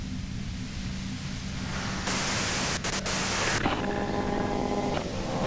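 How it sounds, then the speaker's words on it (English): Steady hissing white noise from a device in the Disco Elysium video game, a continuous static wash that shifts in tone partway through, with faint tonal hums emerging later; no speech. "If you've got something really important to say, you can do it through the white noise."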